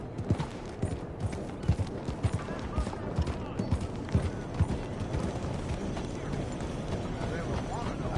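Horse hooves clip-clopping at a steady walking rhythm in the video game Red Dead Redemption 2, fairly soft and continuous throughout.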